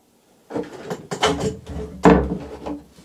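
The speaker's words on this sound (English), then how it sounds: "Let me just close this door." A wooden door is pushed shut indoors in a quiet room, with a few soft bumps and scrapes followed by a heavier closing thud, near and moderately loud with no talking.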